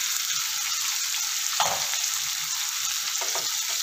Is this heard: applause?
no